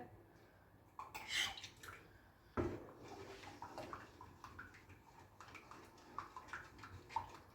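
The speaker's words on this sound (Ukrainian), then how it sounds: "Сюди цю суміш я виливаю, починаю мішати." Pudding mixture poured into just-boiled milk in a pot and stirred, with quiet liquid sloshing and scraping, a sharp clink partway through, then soft continuous stirring sounds.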